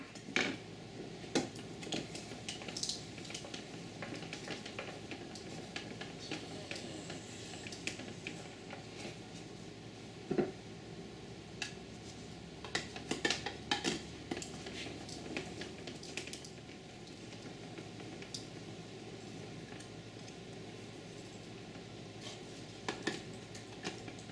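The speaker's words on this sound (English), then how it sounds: "So putting it through the shredder." Firm homemade mozzarella slices being pushed through a kitchen shredder, a steady close mechanical rasp with soft squishy scrapes and scattered clicks and knocks running throughout, no voices.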